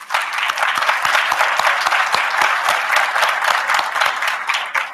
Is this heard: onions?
no